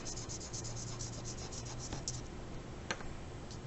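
A charcoal pencil shading across paper with a rough texture, giving a soft, continuous scratchy rasp of quick back-and-forth strokes heard close up, with a few brief tapping marks and no talking.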